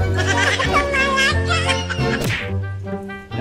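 Goats bleating close by, several overlapping wavering calls in quick succession that fade toward the end, with no clear speech.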